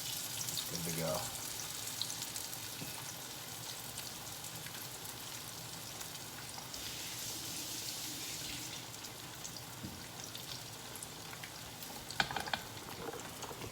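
Beer-battered halibut fillets frying in hot oil, a continuous close crackling sizzle with popping and bubbling, steady throughout and briefly louder near the end.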